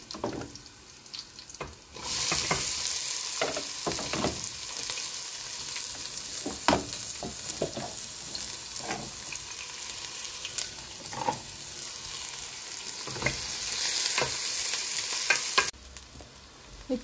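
Beef mince fries with curry leaves in a pan. A loud, steady sizzle starts after a short quiet and carries on close by, with stirring scrapes and clinks through it, then cuts off near the end.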